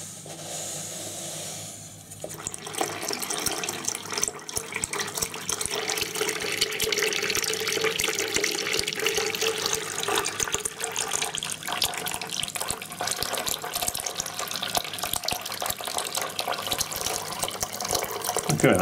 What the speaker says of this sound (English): So what I'm doing is washing the ballast before I use it.